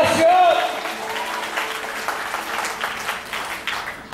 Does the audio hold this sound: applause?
yes